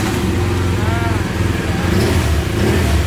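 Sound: motorcycle engine starting and idling

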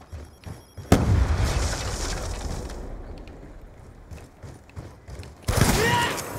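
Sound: sticky grenade thrown and exploding in a video game

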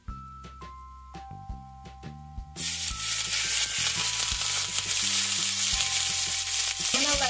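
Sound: Chilean sea bass searing in oiled pan

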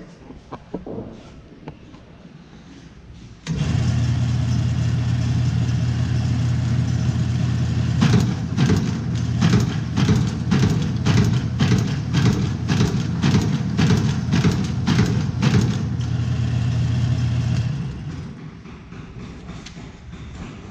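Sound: Rollem Auto 4 slit score machine operating

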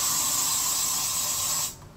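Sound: hair spray being sprayed onto hair

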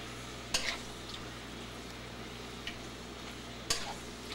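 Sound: stir-frying meat with ginger and greens in pan

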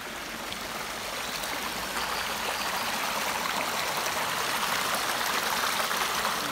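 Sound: stream water flowing where two brooks meet in a park

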